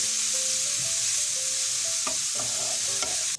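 Chopped onions with a little salt sauté for a vegetable burger, making a constant bright sizzle with a few scraping stirs, while tonal background sounds play underneath.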